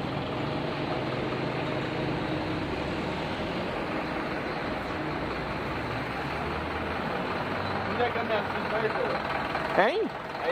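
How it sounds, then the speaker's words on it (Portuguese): A tow truck's engine rumbles steadily nearby while it hauls a motorcycle at a police checkpoint on a city avenue, with people talking over it and a brief rising whine near the end. "A moto sendo guinchada."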